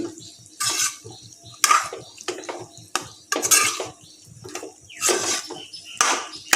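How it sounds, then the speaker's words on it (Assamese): A spoon stirs taro curry in a pot, giving repeated scraping clanks and metallic knocks in uneven bursts, close and moderately loud, with a faint watery undertone and no talking. "এতিয়া মই এইখিনি ভালদৰে লৰাই দিলোঁ"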